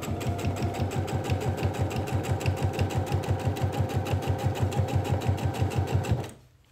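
A sewing machine stitches steadily along a traced line on fabric, its fast, even needle rhythm close and loud throughout before stopping abruptly at the end.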